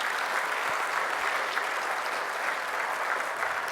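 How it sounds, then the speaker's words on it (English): A steady round of applause fills a hall at an LP gas industry Hall of Fame induction, even dense clapping from a large audience, moderately distant and unbroken for several seconds with no speech. "Give yourselves a round of applause."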